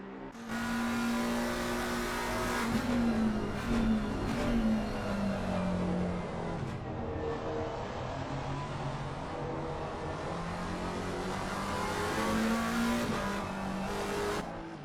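A race car engine in a sim racing game battle for third place at Zolder, including a McLaren, roars steadily and loudly, rising and falling through gear changes and throttle and braking, with faint tyre squeal and no talk.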